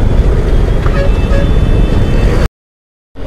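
Road traffic around a Yamaha MT-15 motorcycle: a loud, steady wash of engines and wind noise with a few faint horn toots, then a sudden cut to near silence before the roar returns.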